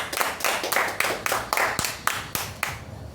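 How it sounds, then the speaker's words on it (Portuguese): A church congregation claps in a strong, regular rhythm, roughly three beats per second, loud and near, with faint voices mixed in during a Portuguese-language worship service. "Aplauda o Senhor."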